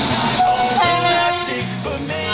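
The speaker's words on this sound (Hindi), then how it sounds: "मालगाड़ी" An Indian Railways freight train passes close by, loud and continuous, with a sustained horn-like tone over heavy rumbling and clattering of wagons.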